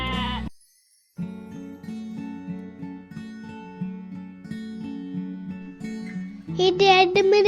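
Several sheep bleat in a row, loud and close, their wavering nasal calls repeating over a low farm background, followed by a higher, brighter bleat near the end; no talking.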